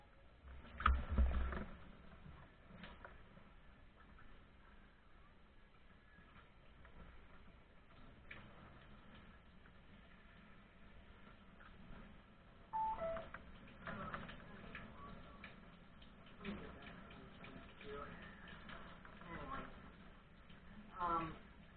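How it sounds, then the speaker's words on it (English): Wax cylinder recording played back, thin and muffled with a narrow, lo-fi tone and faint surface hiss, a voice murmuring on the recording at low volume throughout. "I got my very own wax cylinder."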